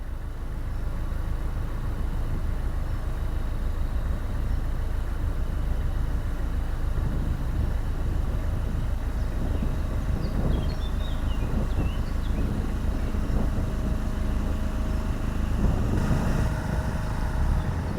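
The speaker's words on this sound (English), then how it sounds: "The other boat's got a noisy generator running" A steady, low engine drone runs throughout, like a noisy generator on a neighbouring moored narrowboat on a canal, heard continuously at moderate distance with wind noise and faint rumble over it and no talk.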